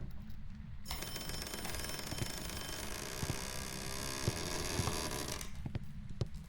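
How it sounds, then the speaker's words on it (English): In the ghost-hunting video game Phasmophobia, a phone rings at the same moment a door creaks, a sustained buzzing ring lasting several seconds that stops abruptly, followed by a few faint knocks. "that was the phone ringing and the door creak audio all at the same time"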